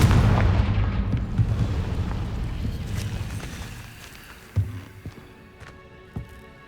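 A Confringo blasting spell going off in the video game Hogwarts Legacy: a loud, booming explosion at the start that rumbles and slowly decays, followed by two smaller sharp impacts later on, with no talking.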